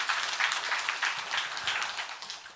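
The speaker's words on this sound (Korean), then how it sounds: "하나님께 영광의 박수 한번 돌리고" A church congregation at a Sunday morning service clapping together in praise, a dense wash of many hands applauding at moderate, steady volume throughout, with no talking.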